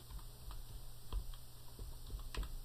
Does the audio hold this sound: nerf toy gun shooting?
no